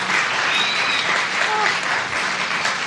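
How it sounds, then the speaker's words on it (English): A live show audience gives a guest a round of applause, a thick, even roar of clapping close by, sustained at full strength throughout with faint voices mixed beneath. "let's get a round of applause"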